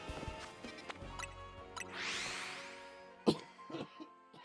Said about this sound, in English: Oh, I can't wait for this cough to go away.